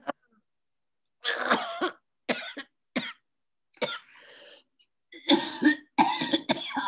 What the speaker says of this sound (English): Yes, let the coughing,